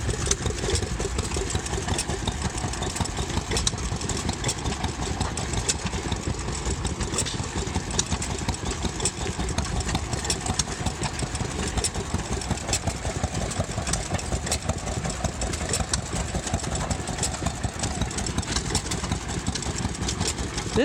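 An antique self-oiling 3-horsepower stationary engine with a Ferris wheel attachment runs steadily and loudly, a dense continuous rumbling chug without pause, some faint background voices.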